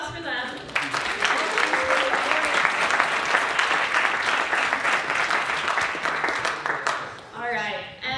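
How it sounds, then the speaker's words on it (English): An audience claps in steady, sustained applause lasting several seconds, dense and fairly close, with a voice speaking briefly before it begins and again as it fades out. "So give a round of applause for them."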